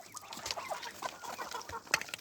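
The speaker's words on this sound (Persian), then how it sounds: "دو خروس" Two roosters fighting on a farm, with a close, busy run of clucks and squawks that keeps going and peaks sharply near the end.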